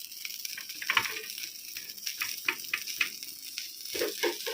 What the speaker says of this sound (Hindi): में मछली फ्राई कर रहा है